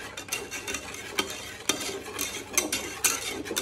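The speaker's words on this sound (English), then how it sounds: "Lots of sugar will make it smooth. Now let's mix." A spoon stirs lemon curd mixture with plenty of sugar in a bowl, giving soft scraping swishes broken by a few sharp clinks against the dish, close and fairly quiet with no voices.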